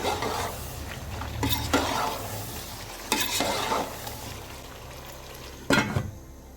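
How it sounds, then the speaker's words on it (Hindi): A spoon stirs homemade special masala through sizzling chicken Karachi biryani in a pot, giving several scraping, clattering strokes over a steady frying hiss, fairly close and without talk. "ये 1 चम्मच जाएगा स्पेशल मसाला जो मेरा घर का बना हुआ है ये वाला। इसको करेंगे थोड़ा सा मिक्स।"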